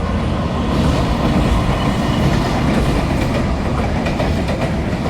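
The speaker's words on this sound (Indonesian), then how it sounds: "kereta mulai datang ini dari arah Bandung" Train from Bandung crossing the Cisomang railway bridge toward Jakarta, loud and close, a continuous rumble with rhythmic wheel clatter on the rails.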